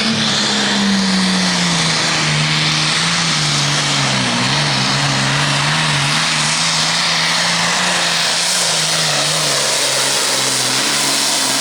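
A Super Farm class diesel tractor roars down the track at a pulling competition, a very loud, sustained engine drone with a slowly wavering pitch throughout, no voices.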